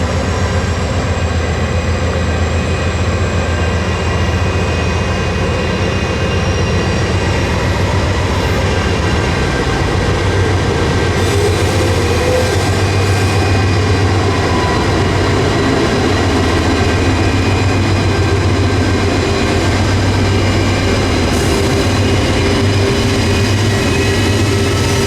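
An extra rail train running on the Old Fort Loops tracks, heard as a steady, loud low rumble of heavy engine and rolling wheels that continues throughout with no talk.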